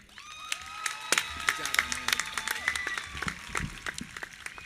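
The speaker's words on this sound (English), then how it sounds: "a big round of applause for our valedictorian, Anahi Duarte" Audience at the Firebaugh High School 2025 graduation ceremony applauds the valedictorian, a steady patter of clapping mixed with scattered cheers and voices, moderately loud throughout.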